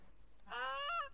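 A Canada goose honks once in The Hunter: Call of the Wild, a single drawn-out nasal call rising and then falling, clear and moderately near over a quiet background.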